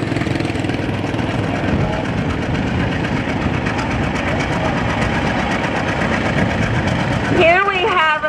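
A diesel John Deere R antique tractor engine chugging at a parade, a loud continuous low rumble with a steady knocking beat, and a voice talking over it near the end.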